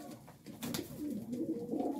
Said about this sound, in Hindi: मेरे पास सारे पट्टी वाले कबूतर हैं,